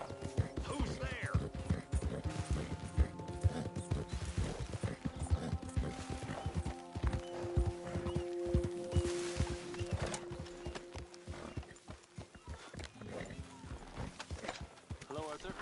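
Horse hooves clip-clopping in Red Dead Redemption 2, a rapid steady patter with a possible whinny, running under music and near, continuous game dialogue.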